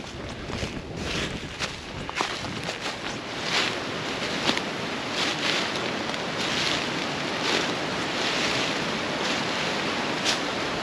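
Steady rushing water from a fast-flowing stretch of the River Prosen in Scotland fills the scene, a broad continuous wash with some gusty wind noise against the microphone.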